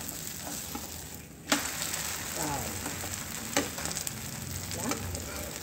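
A wheat flour dhirde sizzling steadily on a hot pan, with a sharp tap as it is flipped and a couple of lighter knocks afterward over the constant frying hiss.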